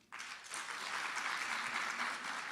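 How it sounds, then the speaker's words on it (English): An audience at a thought leadership event breaks into sustained applause that starts abruptly, fills the room steadily and holds at an even level throughout. "can we please give another round of applause to Mrs. Suleiman?"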